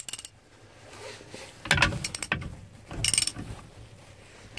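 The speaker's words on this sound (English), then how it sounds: "I'll just take this socket, put it on here on a wrench here" A socket wrench ratchets on a bolt in two short bursts of rapid clicking, close and crisp, separated by quieter handling sounds.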